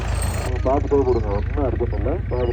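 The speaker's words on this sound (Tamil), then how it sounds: "பக்கத்தில் கொள்ளைக்காட்டில் டிராக்டர் ஓடிட்டுருக்குங்க" A low, steady engine drone of a tractor working a nearby field rumbles throughout, underneath someone talking close up at a cricket match.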